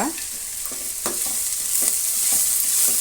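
Tomatoes with turmeric frying in a pan, a steady loud sizzle running throughout with soft periodic scrapes and knocks of a spoon stirring, no voices.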